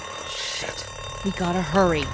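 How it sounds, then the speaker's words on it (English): In-game alarm in The Walking Dead: Season 1 during a storm, a high ringing tone running behind a person speaking, followed by tonal voice-like sounds, moderately loud throughout. "That's the alarm that's gonna be on outside too."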